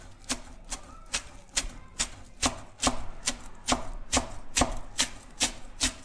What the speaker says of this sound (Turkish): ince ince bunu doğruyorum